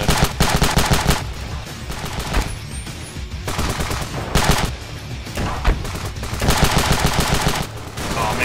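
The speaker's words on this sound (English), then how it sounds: "where are these bullets coming from?" Rapid automatic gunfire and overlapping shots from soldiers in the video game Ravenfield, dense and loud throughout, with brief lulls between heavy bursts.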